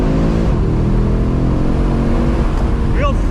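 An Audi RS3 8Y launches hard with four-wheel spin, its engine giving a loud, steady low drone with harmonic layers close up, and a brief rising tone near the end.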